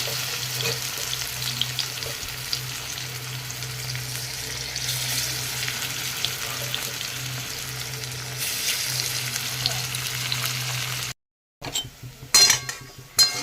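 Banana flower (mocha) fritters in a besan and rice flour batter fry in oil with a steady, bubbling sizzle, then a brief silence and a few close utensil clinks and knocks.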